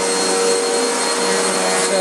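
Steady, loud drone of a home vacuum cleaner running without pause, a dense airy roar with a thin motor whine, no voices over it.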